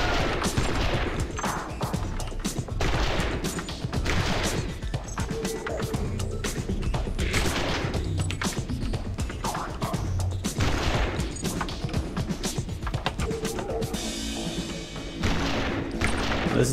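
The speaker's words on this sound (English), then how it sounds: "Just shoot 100 targets along the wall." Gunfire in a video game target-shooting exercise: a dense, continuous barrage of rapid shots hammering away for the whole stretch, loud and close, with barely a pause between bursts.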